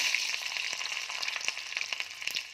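Garlic sizzling in hot oil in a kadhai, a dense steady hiss with a constant crackling texture and quick small pops, close up and continuous with no talking.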